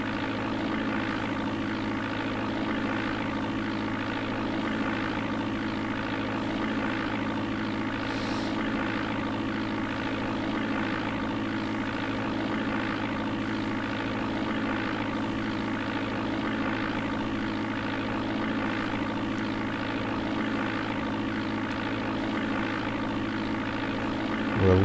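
Steady, unbroken aircraft engine drone from the DOS game Flight Simulator 4 hums at an even level throughout the flight, with no other sounds over it.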